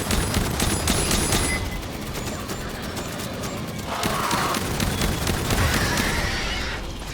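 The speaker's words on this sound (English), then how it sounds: "this normal turret is better overall because it's shooting more often" Rapid gunfire from a turret in the sci-fi shooter Aliens Fireteam Elite, dense repeated bursts of shots mixed with game effects and ambience, fairly quiet and continuous across the clip.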